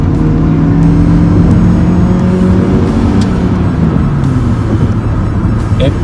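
A Toyota Camry sedan accelerates at full throttle, its engine droning loudly and steadily with a rising whir, heard from inside the car throughout the clip.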